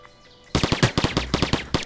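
Automatic weapon fire in a shooter video game cuts in suddenly after near silence, a loud close burst of rapid, evenly spaced shots followed by a few more.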